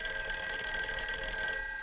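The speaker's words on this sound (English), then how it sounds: "Hey, that's your phone, Uncle Bill" A telephone bell ringing continuously, a bright sustained metallic trill, close and clear with no talking.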